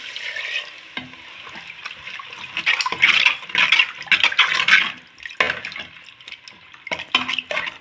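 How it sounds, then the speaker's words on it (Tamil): Water being poured into a cooking pan during a home kitchen preparation with drumstick pods, a sustained splashing and sizzling wash that swells in the middle and trails off, close and fairly loud with utensil clinks. "அம்மி கழுவி அந்த தண்ணி இப்போ சேர்க்கலாம்."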